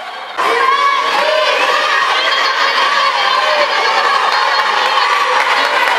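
Fans at an indoor swimming competition erupt into loud cheering and shouting right after a brief quieter moment, then keep up a dense, sustained roar of voices filling the pool hall.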